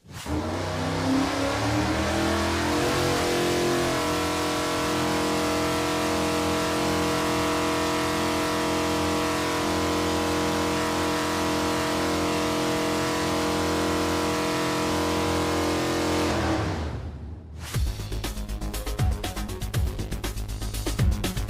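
A car engine on a dynamometer revs steadily through a baseline pull, a loud sustained roar climbing in pitch for about seventeen seconds before cutting off abruptly into lower rumble.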